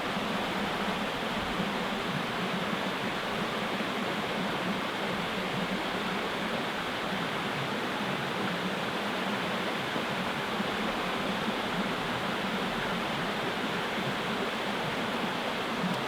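Waterfall pouring steadily, a dense, even hiss of falling water that stays constant throughout with no voices.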